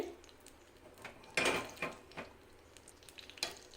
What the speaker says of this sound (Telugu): ఈ నెయ్యిలో డ్రై ఫ్రూట్స్ని ఫ్రై చేసుకోవాలి